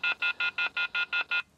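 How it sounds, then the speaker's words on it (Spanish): Eight even electronic beeps in quick succession, close and clean with nothing else under them, from a key programming tablet's reminder alarm during key programming on a 2011 Toyota Camry. "es una alarma que suena para decirte que no se te olvide tu BCI."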